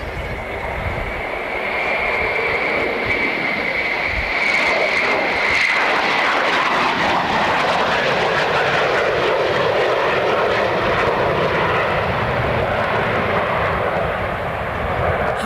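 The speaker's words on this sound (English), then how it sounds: "Fast pass off Concorde." A Concorde jet makes a fast low pass in 1985, a loud, sustained roar of jet engines that swells and holds steady throughout with no break.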